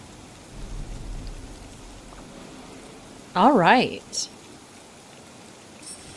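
Steady rain falls in a quiet village in Disney Dreamlight Valley, a soft continuous hiss, while someone briefly speaks and a short melodic voice chirp cuts through.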